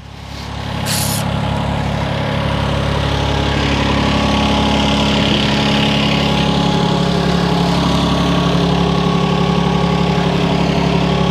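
Mini digger engine running steadily and loud throughout while lifting a pallet on pallet forks, a constant low idling drone with a brief hiss near the start and no talk.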